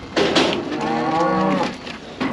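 Cattle on a farm, cows that have calved and kept good condition, let out to pasture; one loud, close, drawn-out moo lasting over a second, with lowing sounds around it and no talk.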